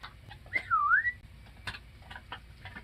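A person whistles to call a dog back, one clear sliding whistle that dips and rises, set against faint outdoor rustles and small knocks.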